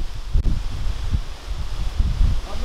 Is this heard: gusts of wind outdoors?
yes